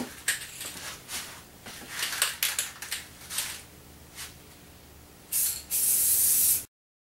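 An aerosol can hisses in several short bursts, then one longer sustained spray near the end, close and fairly loud.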